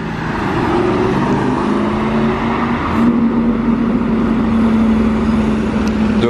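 A Novitec N-Largo Ferrari 812 Superfast, a V12 running with its exhaust valves closed, drives past with a steady, fairly loud engine drone that swells slightly midway, with no voices.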